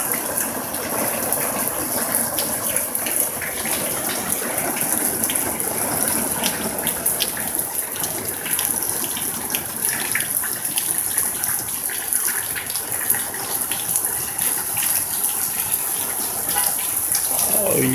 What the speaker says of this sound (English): there's a drain in the corner of the plants that runs down